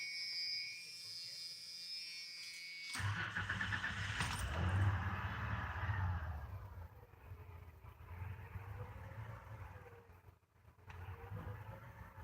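Keys jingle briefly, then a 1978 Ford F-150 pickup engine with vacuum leaks turns over and settles into a low, uneven idle that wavers and stumbles.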